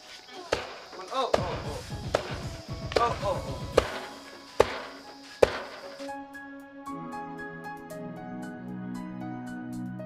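Roasted new paddy rice being pounded into chura in a mountain village, a series of hard thudding blows in an irregular rhythm, close by, before music takes over.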